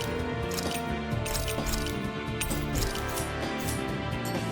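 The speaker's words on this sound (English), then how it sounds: "I always love the sound of hammers." Rhythmic clanging of hammers striking metal in Tales of Arise, repeated ringing clinks layered over a steady musical backdrop at moderate loudness.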